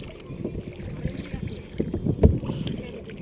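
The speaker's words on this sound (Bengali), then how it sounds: "এই দেখেন একটু বাতাস" Wind buffets the microphone during kayaking at Uttara Diabari, a low, gusting rumble that swells near the end, mixed with water and boat noise and faint voices in the background.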